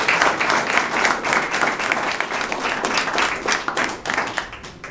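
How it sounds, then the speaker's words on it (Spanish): A crowd at a municipal closing event led by the mayor applauds loudly and steadily for about five seconds, a dense, unbroken patter of clapping hands. "Un aplauso para nuestra familia."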